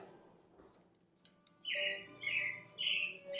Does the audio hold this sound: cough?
no